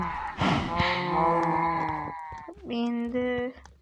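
Cows in the video game Minecraft moo in a few drawn-out, low, tonal calls, fairly loud and close, with a short pause between the first longer call and a later pair of calls.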